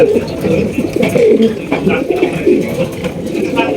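Pigeons cooing at a breeder's loft, repeated soft throaty coos from several birds close by, overlapping in an irregular rhythm with faint background murmur.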